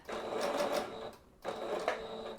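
A domestic sewing machine stitches through layers of tulle for a tutu, whirring in two short close bursts separated by a brief pause.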